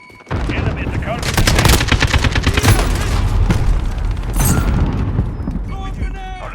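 Rapid automatic gunfire and explosions in a military shooter game, loud bursts rattling on for several seconds, mixed with game radio callouts.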